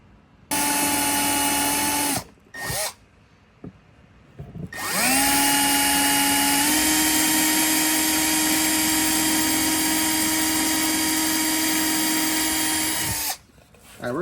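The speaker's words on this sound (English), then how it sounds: "Normally, a rivet, you'd only have to drill like the head of it off." An electric drill bores out the head of a rivet on a Honda XR100 petcock fuel valve, a short burst, a brief stutter, then a long steady high whine before stopping.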